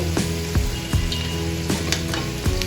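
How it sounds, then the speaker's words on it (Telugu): Halwa burelu, maida-based sweet dumplings, deep frying in hot oil, giving a steady close sizzle with soft bubbling and a few brief stirring knocks, with no talking. "ఎరుకొచ్చుగా వేయించుకుంటే ఆయిల్ కూడా ఏమీ లాగదండి"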